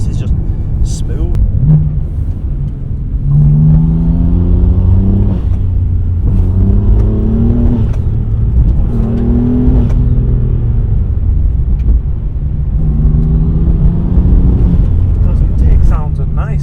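A BMW M4's engine revs and surges in repeated rising pulls while drifting on a mountain road, a loud, steady rumble filling the whole stretch with people talking over it.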